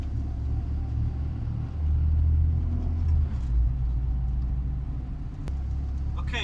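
Honda Civic fitted with an H22 VTEC engine accelerating on the road: a low, steady engine rumble that swells for a moment, heard from inside the car with no talking.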